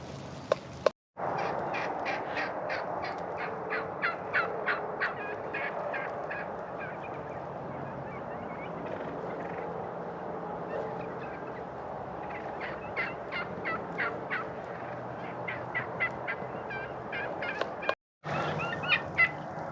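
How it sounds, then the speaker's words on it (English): A flock of wild turkeys gobbling in repeated bursts, loud and close, with overlapping calls and a steady outdoor background, two brief silent gaps. "the more I watch these turkeys, the more I learn their behavior and stuff"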